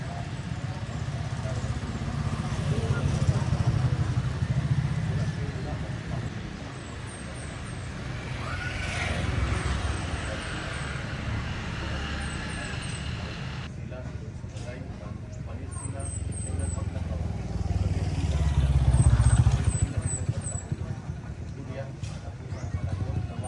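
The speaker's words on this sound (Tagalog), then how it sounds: "Maririnig si Father ang iingay ng mga tricycle." Motorized tricycle engines in a Filipino street drone and rumble as they pass, with the loudness swelling and fading over and over. Background voices and chatter mix in, and faint high chirps come and go.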